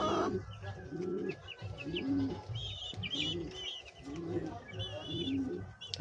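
Pigeons coo softly on a pigeon farm, low repeated throaty calls rising and falling over a quiet background with a few higher chirps and faint distant talking.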